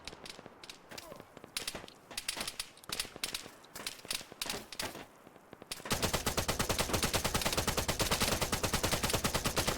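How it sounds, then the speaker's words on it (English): Arma 3 gunfire: scattered sharp shots crack among spoken voices, then a loud, sustained stretch of rapid automatic fire rattles on at a steady pace. "I'm hearing some shots."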